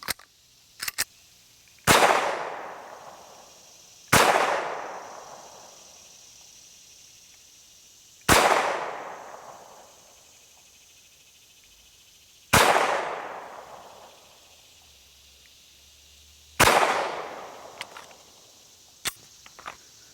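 Five sharp pistol shots from a SAR B6 firing Winchester 124 grain Lawman hollow point ammunition at an outdoor range, spaced a few seconds apart, each loud crack trailing off in a brief echo, with small clicks between.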